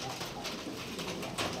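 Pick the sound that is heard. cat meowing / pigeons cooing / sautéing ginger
pigeons cooing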